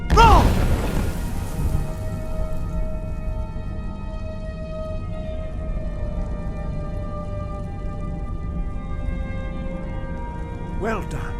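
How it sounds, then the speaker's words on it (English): A booming Unrelenting Force dragon shout in Skyrim opens with a deep forceful blast, followed by a long droning, ringing echo and rumble that fades, with a second shouted burst near the end. "Use your unrelenting force shout to strike the targets as they appear."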